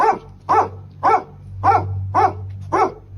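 A dog barks six times at a steady, even rhythm, each bark loud and close, over a low constant hum.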